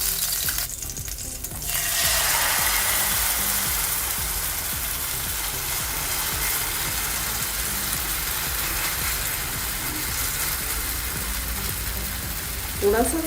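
Veg pancake batter sizzles in hot oil on a pan, a loud, steady frying hiss that swells after a brief quieter start and continues for over ten seconds, with faint clinks near the end.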